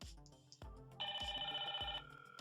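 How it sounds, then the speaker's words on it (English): A Hikvision Gen2 IP intercom indoor handset rings for a call from a door station. A one-second electronic tone burst stands out over a background of repeated low chime-like notes, quiet and heard alone. "So now if I press door 1, it should ring the phone"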